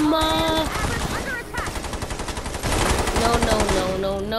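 Gunfire in the Fortnite video game, rapid automatic bursts crackling loudly in quick succession, with game tones and effects layered over the shooting.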